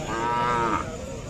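A Khillar cow at a cattle market in Sangola, Solapur moos once, a long, loud, low drawn-out call that swells and then fades, close by.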